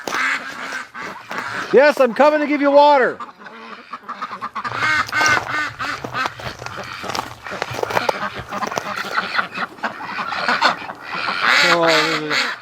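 Pekin ducks quack repeatedly nearby in loud, raspy bursts, with a person talking to them in between the calls.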